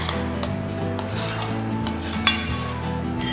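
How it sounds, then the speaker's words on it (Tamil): Aval malai mixture being stirred in a pan, soft steady scraping and rubbing close by with one brief clink, under a continuous background hum. "இப்போ இதெல்லாம் நல்லா மிக்ஸ் பண்ணிக்கோங்க"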